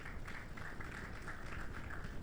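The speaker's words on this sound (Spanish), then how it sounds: "Ponte de pie en esta hora y dale un aplauso fuerte al Señor" A standing church congregation gives a hearty round of applause, heard faint and distant as an even, continuous patter of many hands.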